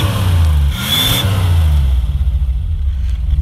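A 1960s Rover 3500 P6 V8 engine revs steadily from behind the car, a loud, deep, continuous rumble that rises briefly in pitch and then settles into a lower idle throb.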